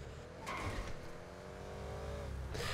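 A Mercedes S63 AMG engine in GTA Online, a muted, fairly quiet drone rising in pitch as the car accelerates, with a gear-change dip and a brief squeal near the end, no talk.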